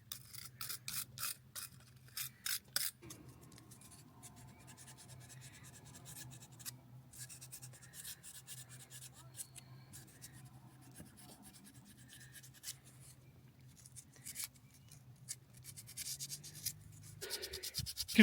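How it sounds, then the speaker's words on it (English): A rusty wire brush scrubs metal parts of an outboard motor, giving steady close rubbing and scratching strokes with sharper bursts at the start, under a low background hum, with no talking. "But maybe not with a rusty wire brush."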